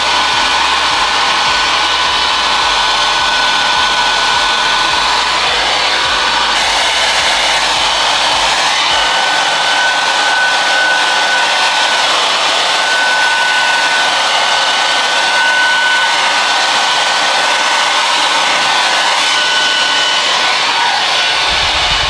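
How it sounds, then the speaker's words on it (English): A small dual-voltage travel blow dryer runs continuously while drying hair, a loud close whirring drone with a shift in pitch and airflow partway through and no speech. "I honestly feel like that small blow dryer is"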